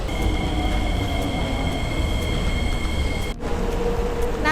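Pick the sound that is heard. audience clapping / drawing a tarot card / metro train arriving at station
metro train arriving at station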